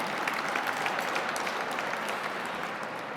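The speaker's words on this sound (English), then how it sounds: "that really deserves applause" Applause from an audience at an annual dinner, a dense, steady wash of many hands clapping at even volume throughout.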